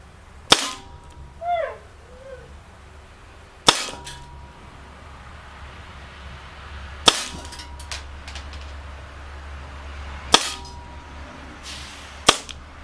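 A Gletcher P08 Luger CO2 blowback BB pistol fires five sharp, loud cracks spaced a few seconds apart outdoors, each shot snapping crisply with a quick metallic slide clack, and a faint bird call early on.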